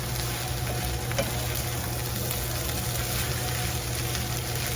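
Corn tortillas toasting in a hot pan, giving a steady, even sizzle and crackle that runs without a break at moderate loudness, with no voices.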